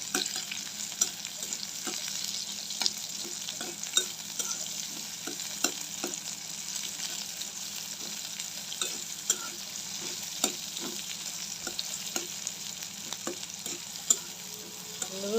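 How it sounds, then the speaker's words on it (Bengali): Chopped green chillies and onion fry in hot oil in a pan, a continuous close sizzle broken by regular scraping strokes of a spatula stirring through, with no voices. "পেঁয়াজটা আর মরিচ লাল লাল করে ভাজা ভাজা করে নিবে"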